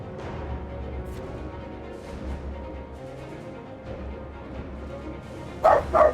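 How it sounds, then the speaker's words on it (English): A small dog barks twice, sharp and fairly close, near the end, over game music playing during a narrative card battler. "Pardon my little dog."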